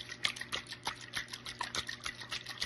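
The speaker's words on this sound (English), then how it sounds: "you are just going to shake, shake," Balsamic salad dressing sloshes inside a sealed bottle being shaken by hand, a quick steady rhythm of wet liquid splashes repeating several times a second, close and fairly soft.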